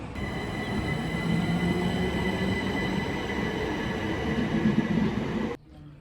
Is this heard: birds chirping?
no